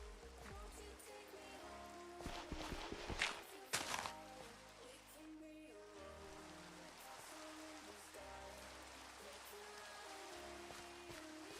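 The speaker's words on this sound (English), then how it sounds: "It's even raining" Steady rain patters across the ground in a Minecraft-style block-building game, an even hiss of drops running throughout with a brief cluster of louder taps around the middle and no talking.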